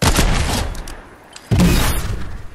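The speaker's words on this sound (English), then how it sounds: "Oh, I forgot I have a snowball launcher." Snowball launcher fired in a first-person shooter video game, two loud, close blasts about a second and a half apart, each a booming burst that fades, with no voices.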